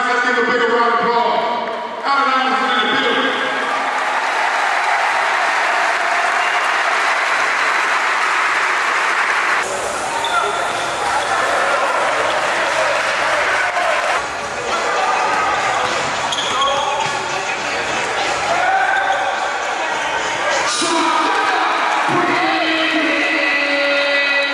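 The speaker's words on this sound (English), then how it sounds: "Let's give a bigger round of applause." Steady crowd applause and cheering at a high school all-star basketball game, a dense, loud wash of clapping with an announcer's voice talking over it.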